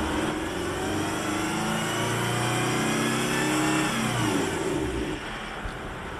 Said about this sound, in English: Listen for the decompression of the engine.